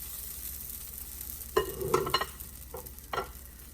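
Buttermilk pancake batter drops into a hot pan and starts cooking, giving a faint sizzle and a few sharp clatters and scrapes from the pan and utensils, with no talking.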